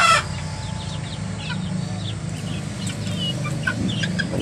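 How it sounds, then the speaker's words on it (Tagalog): A young black crossbreed rooster, about two months old, clucks and gives short crowing calls at close range, with other farm birds chirping in the background over a low steady hum. "Tandang nga ito siguro."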